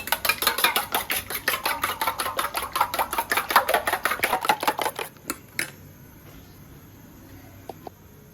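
Eggs with salt and chili powder are beaten briskly in a bowl, giving a fast, even run of close clicking strokes for about five seconds, then a couple of stray taps and near silence.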